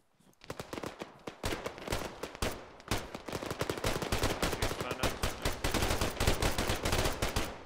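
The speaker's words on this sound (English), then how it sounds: "Probably because we're getting shot from the north." Gunfire in the video game Arma 3: rapid bursts of automatic fire and single shots crackle loudly and nearly continuously, building in density, with no talk over them.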